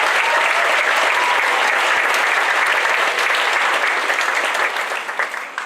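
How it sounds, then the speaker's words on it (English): An audience at a school 8th grade band and chorus concert applauds with dense, steady clapping that fills the room, then thins and tapers off near the end. "Let's give him a round of applause."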